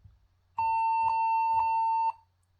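A computer booting from a USB drive gives one steady electronic beep lasting about a second and a half. Soft faint ticks sound beneath it at regular intervals.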